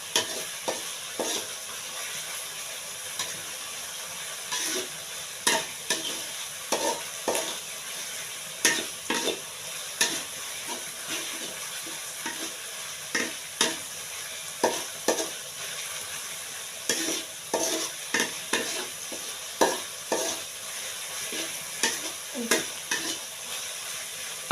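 Vegetable soup with shrimp is stir-fried in a pan, a steady sizzle under repeated close scrapes and clacks of a spatula stirring in an uneven rhythm.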